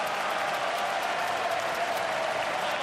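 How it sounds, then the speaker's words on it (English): Steady, sustained applause from a stadium crowd at the SCG during a football match, a minute of clapping tribute for Adam Goodes, a dense even roar of hands from a large distant crowd. "So a minute's clapping in the 7th minute of the third term for the number 37."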